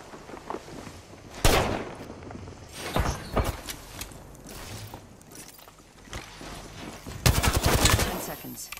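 Video game gunfire rattles in loud bursts and single cracks while the player is under fire, several sharp volleys spread across the stretch with quieter gaps between them.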